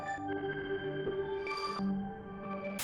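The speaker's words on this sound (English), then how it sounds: "Later on, I've actually added a second preset called Horrorbox to introduce some moody elements." Horrorbox synth preset with delay, moody sustained tones that drift and layer with echoing repeats, fairly quiet and alone without talking.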